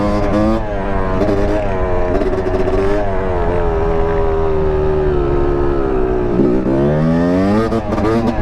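Yamaha YZ250 two-stroke dirt bike engine revving loud and close, a steady high-pitched buzz that climbs and dips through several throttle changes with no talking.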